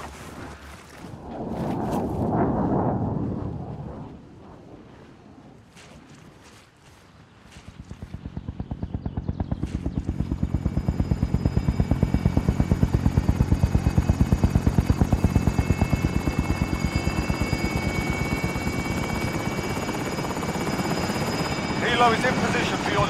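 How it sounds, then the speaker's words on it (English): A helicopter in the video game Call of Duty Modern Warfare flies in, its rotor rising from faint to a loud, steady rapid chopping thump that holds close, with brief game voices early on. "Chopper is in the AO."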